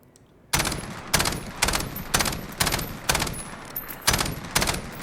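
STAR-21 rifle in Call of Duty: Modern Warfare firing repeated three-round bursts, loud and close, about nine sharp bursts in a steady rhythm after a brief quiet start, with no voices.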